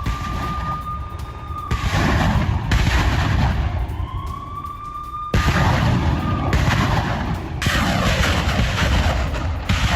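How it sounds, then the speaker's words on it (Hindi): Grad multiple rocket launchers fired by Russian forces at a Ukrainian defense line, a loud, sustained roar of launches in rapid succession, with whistling tones rising and falling through the din. "यूक्रेन की डिफेंस लाइन पर एक के बाद एक ताबड़तोड़ रॉकेट दागे गए"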